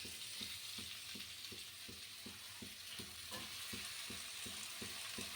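Spinach for Bengali palong shaak ghonto sizzles and fries steadily in a pan with ground cumin, a constant hiss over a regular stirring rhythm, close and moderately loud, with no talk.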